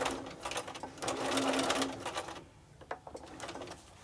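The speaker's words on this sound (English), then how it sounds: "It's very important here to back stitch at the beginning" A sewing machine back stitches the seam of a hobo bag, running in a fast, close, whirring burst, then slowing to a few lighter stitching pulses.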